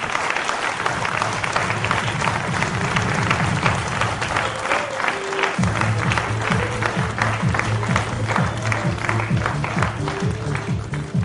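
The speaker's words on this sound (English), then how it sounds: "big hand of applause" Audience at an indoor awards ceremony applauding for a chief guest receiving a memento, steady sustained clapping from a large crowd throughout, loud and close, with no speech.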